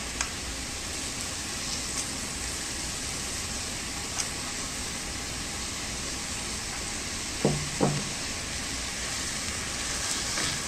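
Everyday Indrayani rice sautéing in a pan for Konkani coconut milk pulao, a steady soft sizzle throughout with a few brief scraping stirs of the spoon near the end.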